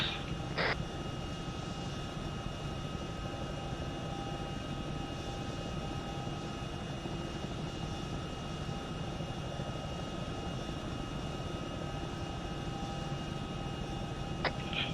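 A helicopter sets down on a launch helipad beside parked F-35 jets in the military game Arma 3, its steady rotor and engine drone filling the scene evenly from start to finish, with two sharp brief clicks near the start and end.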